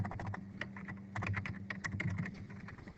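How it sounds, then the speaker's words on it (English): Rapid, close clicking of a computer keyboard as an address is typed in, an uneven run of many crisp keystrokes with a brief pause partway, no speech over it. "So I type in the school's address"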